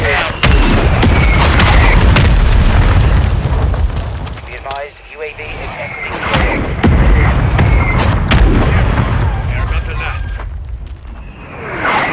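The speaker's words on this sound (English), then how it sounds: "Mortar strike on the way." Mortar strike explosions in the Warzone video game, Resurgence mode: loud, heavy booms roll in one after another, layered with dense, continuous game noise.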